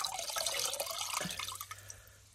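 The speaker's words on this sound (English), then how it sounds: "There's still water coming out of that one, as you can see, right?" Water dripping and trickling from a wet scour sponge used for tile grout work, with soft splashy drops that thin out into a few separate drips toward the end.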